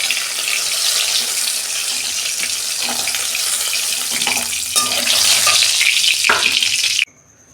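Eggplant frying in oil already used for fish, a loud, steady, dense sizzle with faint stirring ticks, holding evenly for about seven seconds before cutting off abruptly.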